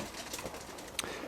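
Two young roller pigeons coo softly with a faint flutter, a quiet, brief outdoor moment with a small sharp sound near the end and no talk.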